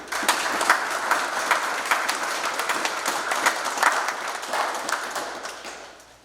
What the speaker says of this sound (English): please join me in a round of applause for the Childers and Dietz families.